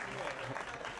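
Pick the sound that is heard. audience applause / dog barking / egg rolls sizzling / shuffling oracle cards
audience applause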